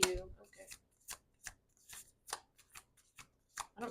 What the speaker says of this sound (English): I don't normally shuffle these cards like this